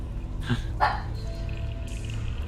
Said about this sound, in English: Hey, Chewie, you can bark all night.